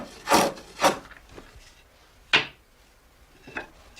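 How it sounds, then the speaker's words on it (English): A cooper hollowing out and trimming a wooden churn stave with a hand tool, heard as a few separate rasping, scraping strokes on wood, close and fairly loud with pauses between them. "starts to hollow out that part of the stave which will be on the inside of the churn, and trims the edge of the stave"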